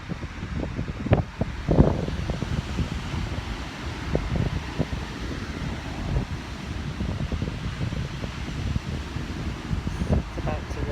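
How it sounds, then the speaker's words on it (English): Wind blowing outdoors near a beach in Gibraltar, a constant low rumbling buffet against the microphone with occasional louder gusts and faint background activity. "but you'll probably hear a lot of the wind"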